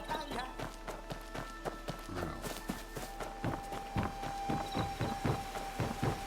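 Horse hooves clip-clop at a steady, even rhythm in the video game Where Winds Meet, close and moderately loud over soft in-game ambience.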